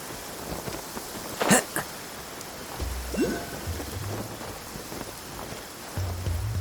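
Steady rain downpour in Genshin Impact, a broadband hiss running throughout with a brief louder burst early on, low rumbles and faint game tones over it.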